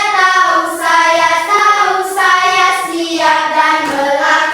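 A classroom group claps a rhythmic 'tepuk keren' pattern, steady repeated hand claps with a voiced chant-like tone running continuously underneath, loud and close.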